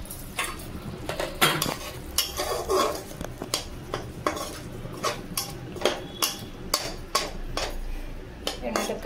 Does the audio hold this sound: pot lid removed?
yes